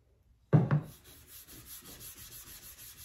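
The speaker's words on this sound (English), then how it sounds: "I'm going to rub the wax into the wood in the direction of the wood grain." Wax rubbed by hand into already sealed wood coffee table furniture along the grain, a soft repeated scuffing swish after an opening thump, close and steady.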